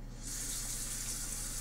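A shower runs in The Sims 4 video game, a steady hissing spray of water that carries on evenly throughout with no voices.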